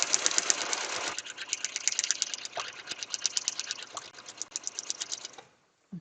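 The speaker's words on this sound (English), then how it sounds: "You can sew all the way across." Sewing machine stitching across fabric, a rapid, even needle chatter running steadily for about five seconds before stopping, fairly quiet and with no talk.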